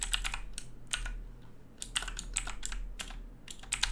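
Close, crisp computer keyboard typing in quick clustered bursts of keystrokes with brief pauses between words, over a low steady hum, no talking.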